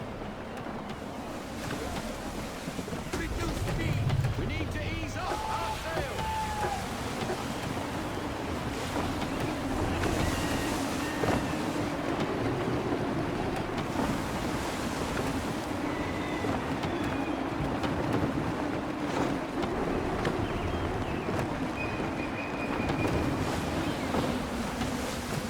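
A sailing ship in the Assassin's Creed 3 video game cuts through open water, with a broad constant rush of waves and gusting wind, sporadic creaks and splashes, and no talking.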